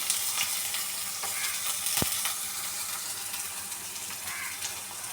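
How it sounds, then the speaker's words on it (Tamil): Chopped onions with dried chilies frying in hot oil for a Bengali chicken curry with potatoes, giving a continuous soft sizzle with a faint clink, close but quiet. "அதுக்கப்புறம் நம்ம வெட்டி வச்சுருக்க இந்த வெங்காயத்தை சேர்த்துப்போம்."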